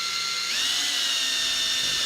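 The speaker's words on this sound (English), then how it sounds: "I am slowly beginning to drill." A power drill boring a hole into material laid over a phone book, a steady high whine that rises slightly in pitch as it bites, continuous and close with no talk.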